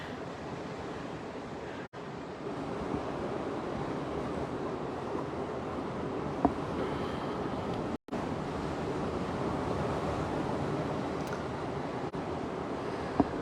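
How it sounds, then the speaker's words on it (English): Waves come in along the rocky shore at Caves Beach, New South Wales, a constant broad hiss and rumble of surf heard at a distance with no voices. "I want to see what the waves look like coming in over here."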